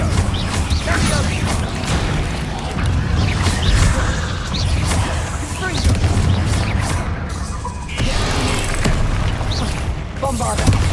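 Repeated Confringo fire-spell blasts in Hogwarts Legacy, loud booming bursts in quick succession over constant battle clamor, with speech in between.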